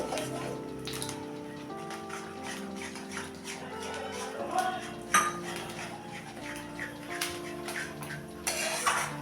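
Egg korma is stirred in a pan with yogurt, producing repeated utensil clinks and scrapes against the metal over a steady background hum, close by, with a few louder knocks near the end.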